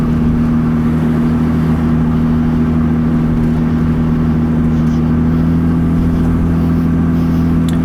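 A car engine drones steadily with a strong low hum while the vehicle circles slowly around the Bordentown parking lot, a constant close interior sound with no talking.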